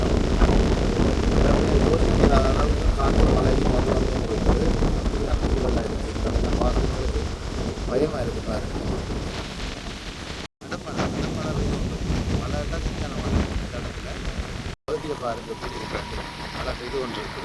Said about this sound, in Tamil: கடும் மழை பெய்து கொண்டிருக்கு